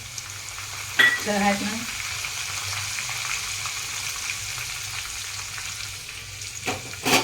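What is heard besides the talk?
curry leaves sizzling in tempering oil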